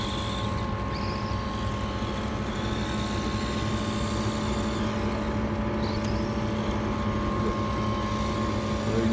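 Enoze 9306E Black Ghost RC car running on a night run, a steady faint motor whine with constant background noise and no clear pauses.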